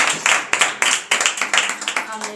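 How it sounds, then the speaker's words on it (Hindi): Loud applause and clapping from a church congregation during a Christian sermon, a series of sharp rhythmic bursts of claps close by, rising and falling in quick waves. "जोरदार तालियां।"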